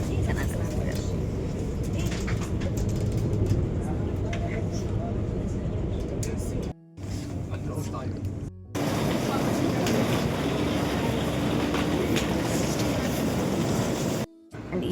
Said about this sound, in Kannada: ಇದೇನು ಬರ್ತಿದೆಯಲ್ಲ ಈ ಬಸ್ನ ಟ್ರಾಮ್ ಅಂತ ಕರೀತಾರೆ